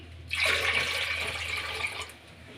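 Water poured into a container of tamarind while making coconut milk rasam, a steady close splashing pour that lasts about two seconds and then tapers off, with no talking.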